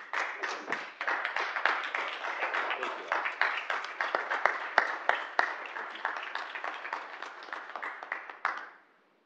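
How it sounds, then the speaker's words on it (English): At a city council meeting, the audience stands and claps for a staff member's years of service. The clapping is brisk and fairly close, holds steady for about eight seconds, then quickly dies away. "You can all stand up and clap for Jim now."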